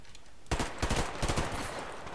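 Gunfire in the video game Survarium: a rapid burst of rifle shots starting abruptly, loud and close, with several sharp cracks in quick succession and a lingering ringing tail.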